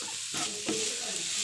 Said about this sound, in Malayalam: ഇളക്കിക്കൊണ്ടിരിക്കുന്നുണ്ട്.